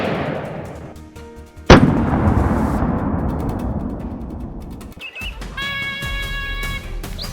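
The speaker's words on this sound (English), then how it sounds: "a bullet is fired instantly, and the boar collapses on the spot" A single sharp rifle gunshot fired at a wild boar during a farmland hog hunt, a loud close crack that rings out and decays into a long rumbling echo, followed by quieter outdoor ambience.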